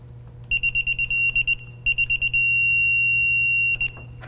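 A Hilmor digital torque wrench sounds its alert on reaching the set torque on a valve fitting: a run of sharp, high electronic beeps in quick bursts, then a long steady tone, loud and close.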